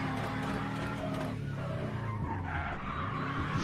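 Mario Kart Wii race car braking hard into an acute hairpin on an Indy-style Chicago circuit, a loud continuous engine whine with broad tyre skid noise running the whole way through, with no talking.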